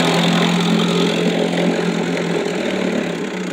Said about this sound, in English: If you listen to how low this thing idles down, it would be great as a kicker motor for trolling on a fishing boat.